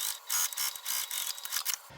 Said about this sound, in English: So we are top stitching on this lining piece, not on the ears.